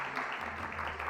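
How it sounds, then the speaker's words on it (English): A live audience at a poetry and percussion show claps in a brief, steady burst, a dense moderate-level patter of applause with no voices over it. "can you give a round of applause to Brad Williams"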